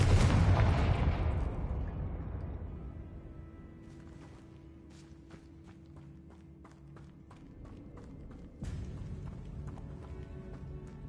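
Confringo fire spell in Hogwarts Legacy, a loud blast at the start that decays over a few seconds into a quieter crackling scene, followed by a second, weaker burst near the end.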